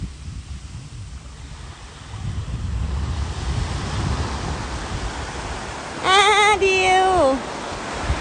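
Sea waves washing onto a beach at Krabi, a continuous roar of surf and wind noise, with a short whistling, swooping tone rising over it near the end.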